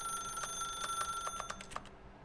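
A telephone in The Stanley Parable: Ultra Deluxe rings with a bright, repeating electronic trill, several quick chimes in a row at moderate volume before cutting off abruptly.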